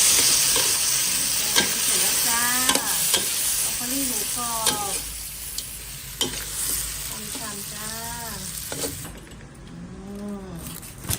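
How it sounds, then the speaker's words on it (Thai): Steady sizzling and frying of crispy pork belly being stir-fried in a pan with scraping stirs, while someone talks in Thai over the cooking. "ใส่หมูกรอบลงไปเลยค่ะ"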